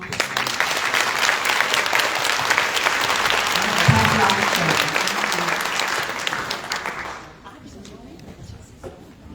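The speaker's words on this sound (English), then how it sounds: "You all give a round of applause" Audience applause for a women's leadership panel discussion, a loud sustained burst of clapping from a full room with a few voices mixed in, then fading to quieter scattered claps near the end.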